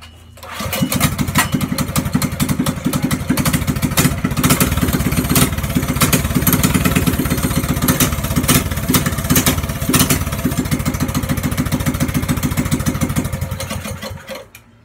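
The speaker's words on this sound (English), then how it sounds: "I'm gonna start up my bike. Let's see how it sounds." A motorcycle with a short exhaust pipe, started after sitting unused for a while, catches and runs with a steady, loud, close, rapid-firing chug that holds level for most of the clip before cutting off at the end.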